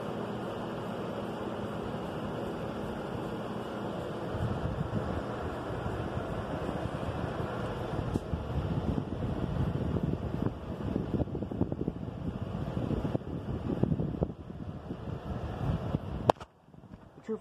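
A slightly noisy 52-inch Harbor Breeze Edenton ceiling fan with toffee blades runs on high speed, making a steady broadband whoosh and hum that continues evenly until it cuts off abruptly near the end.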